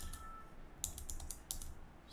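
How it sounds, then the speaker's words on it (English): Keystrokes on a computer keyboard while text goes into a web input box, a quick irregular run of close clicks with two denser bursts, heard alone. "let me try typing in this input box"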